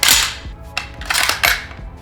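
Several sharp gunshots in a first-person shooting scene, loud and close, fired in quick succession with short gaps between them.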